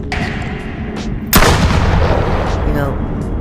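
A virtual reality gun game fires a single loud, sharp gunshot with a booming tail, preceded by quieter handling clicks.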